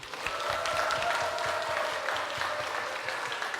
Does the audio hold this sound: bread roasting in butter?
no